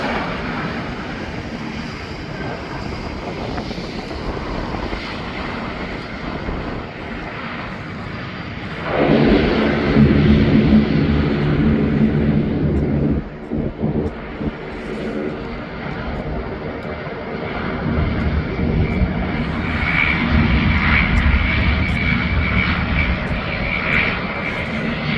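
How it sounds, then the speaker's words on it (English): At an airport beside the Sullenberger Aviation Museum in Charlotte, a fixed-wing airplane roars as it takes off, with its loud engine noise rising, easing off and swelling again, while people talk nearby. "One is about to take off."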